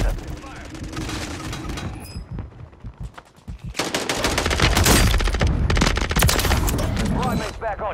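Call of Duty multiplayer firefight in which heavy, rapid automatic gunfire swells to a loud continuous barrage after a brief lull, with explosive crackle throughout.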